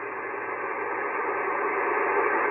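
Ham radio reception on the 15 meter HF band: a steady, band-limited hiss of static with faint tonal carriers running throughout, continuous and even in level, with no clear voice coming through.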